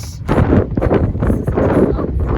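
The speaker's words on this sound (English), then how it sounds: "It's so windy!" Loud gusty wind buffets the microphone in heavy rumbling bursts for a couple of seconds on a van trip in South Australia, with no voices.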